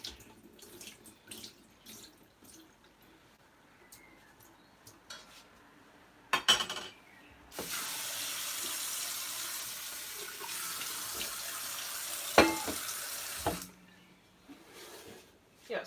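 Water draining from washed lamb into a pan, with cooking sounds: a few seconds of steady rushing, splashing water between clinks of pans and utensils, close by.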